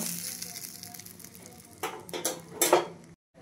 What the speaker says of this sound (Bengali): দেখুন তেলের মধ্যে আরও একটি পিঠে আমি দিয়ে দিলাম